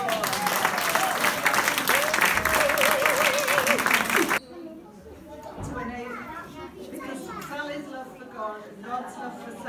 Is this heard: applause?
yes